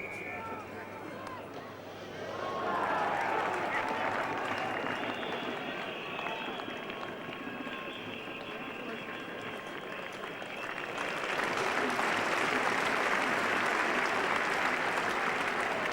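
Cricket crowd at Headingley during the England v West Indies Test, applauding steadily with broad, sustained clapping that swells louder toward the end, with a commentator talking over it.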